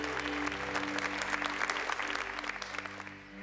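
Church congregation applauding during a Catholic talk, steady sustained clapping over a low held organ or keyboard tone, fairly even and moderately loud throughout.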